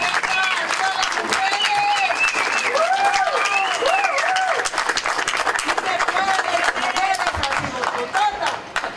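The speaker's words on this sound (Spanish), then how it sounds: "les pido un aplauso para ella" Audience applause at a book presentation, sustained dense clapping from a crowd in a room, with voices and cheers rising through it.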